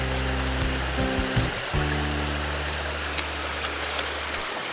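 The Bued River rushes steadily beside a camping spot, a broad, constant wash of flowing water, while a low engine-like hum comes and goes underneath and then fades out.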